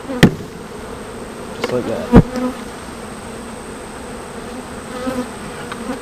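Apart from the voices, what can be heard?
honeybees buzzing after being banged into a hive box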